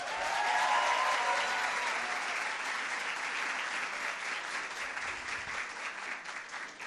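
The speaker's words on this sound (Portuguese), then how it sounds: "Uma salva de palmas." A crowd of guests at a university exhibition opening bursts into sustained, dense applause that starts at full strength and holds steady for several seconds, with a faint murmur of voices underneath.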